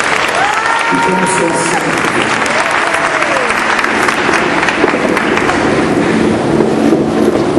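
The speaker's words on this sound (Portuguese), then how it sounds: "Os que podem, dê a Jesus uma linda salva de palmas." A church congregation at a Curitiba religious event breaks into loud, sustained applause filling the room, with a voice speaking briefly over the clapping near the start.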